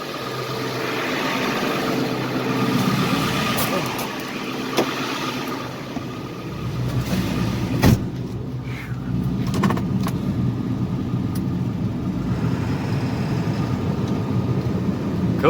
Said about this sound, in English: we got the tractor running